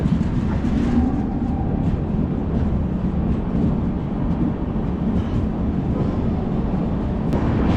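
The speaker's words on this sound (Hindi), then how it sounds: "हो चुका है बिल्कुल ऑन टाइम डिपार्चर इस ट्रेन का।" The Arunachal AC Express train departs, giving a steady, loud low rumble and rolling noise that continues throughout with no talking.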